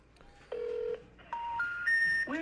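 A cell phone placing a call plays a quick series of clean electronic dialing tones, each a short steady beep at a different pitch, stepping up one after another and heard up close with no talk.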